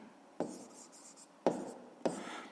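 A pen writes on paper during a fifth-grade maths exercise, with three distinct strokes or taps each followed by a short scratching trail, close and quiet against a faint background hiss.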